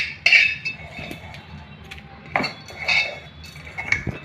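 Puliyogare spice powder being mixed in a metal vessel: scattered sharp clinks and scrapes of a spoon against the pot, close up, with quiet gaps between strokes.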